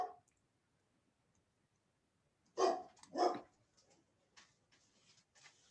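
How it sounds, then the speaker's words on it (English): A dog barks in the background of a quiet indoor setting, two clear barks in quick succession followed by a few fainter yips and scuffs, moderately distant and not loud. "Sorry about the dog in the background."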